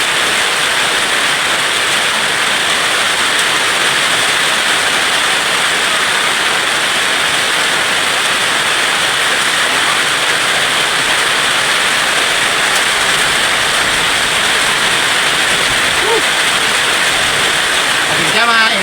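Heavy rain pouring down during an outdoor cooking session, a dense, steady roaring hiss that fills the whole stretch without letup, loud and close.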